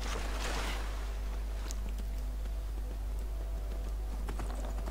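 Horse hooves clip-clop in Skyrim, a quiet, uneven patter of light knocks running over a steady low hum, with no talk in the clip.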